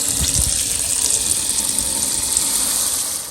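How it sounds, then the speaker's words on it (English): Water gushes steadily from a tap into a 5-gallon bucket for a portable pressure washer, a loud, continuous close rush that stays even throughout and fades at the very end. "Take the bucket and go fill the bucket up."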